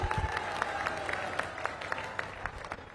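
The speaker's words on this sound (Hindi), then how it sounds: "हमारे पूर्व सैनिकों के अभिनंदन में भी तालियां बजाकर एक बार स्वागत किया जाना चाहिए" Audience clapping at an outdoor political rally in Brahmapur, greeting former soldiers; a steady spread of claps with a few sharper hits, moderately loud and continuous for the full stretch, with no talk over it.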